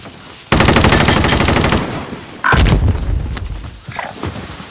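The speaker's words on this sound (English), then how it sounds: "They're shooting at me." Heavy enemy gunfire in Call of Duty: Modern Warfare, with a loud sustained burst of rapid automatic shots, then a booming second volley fading into scattered, more distant rounds.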